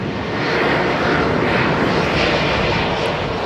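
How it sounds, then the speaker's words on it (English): Aircraft cabin air conditioning, a steady broadband whoosh of rushing air that fills the cabin evenly, loud and unbroken for a few seconds. "As you get onto the aircraft, you'll hear the air conditioning system."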